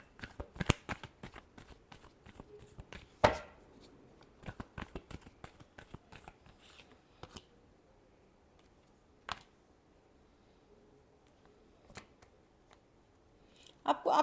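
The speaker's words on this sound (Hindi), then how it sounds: "Last shuffle." Tarot cards being shuffled in quick riffling bursts and flicks, with sharp clicks scattered across a quiet stretch, near and fairly faint.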